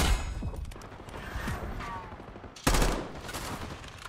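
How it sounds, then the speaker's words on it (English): Sniper rifle fire in the Black Ops 6 video game, a sharp burst of gunfire cracking out midway through over a continuous backdrop of game ambience and distant shots. "These guys are just sniping across."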